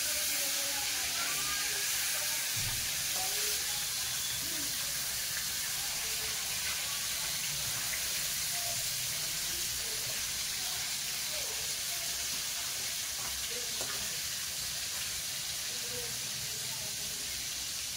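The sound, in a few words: fish frying in hot oil in a pan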